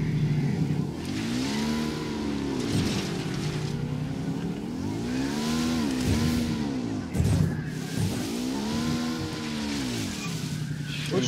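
Motorcycle engine in Ghost Recon Wildlands revving loud and close in three repeated rising-and-falling surges, with pitch sweeping up and down as the bike accelerates and eases off over a steady rumble.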